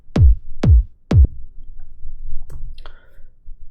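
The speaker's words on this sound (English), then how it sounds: "I found that layering them like this made a powerful round kick that really helps drive the track." Three punchy layered kick drum hits for a tech house track strike in quick even succession, deep and round, followed by a couple of faint ticks in near silence.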